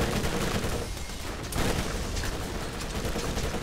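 Rapid gunfire from the video game Borderlands, dense and loud throughout, with continuous bursts of shots and mechanical clatter blending into a busy, sustained barrage.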